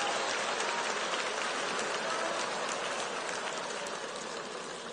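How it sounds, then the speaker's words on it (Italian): Steady crowd applause at an outdoor political rally in Sardinia, a dense, even wash of clapping from many hands sustained throughout with no break, moderately loud and distant. "il vostro applauso mi scalda il cuore"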